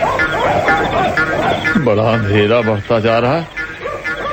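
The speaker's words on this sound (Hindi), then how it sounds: "कुत्ते भौंक रहे हैं, कहीं काट न ले।" Dogs barking at night in a radio drama scene, a few yelping barks and whines rising over a voice, fairly close and loud, overlapping the speech in the middle.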